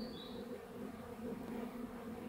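Honey bees drone softly inside an open Warré hive during a transfer from a mini-plus box, a low, continuous close buzz with slight wavering and no voices.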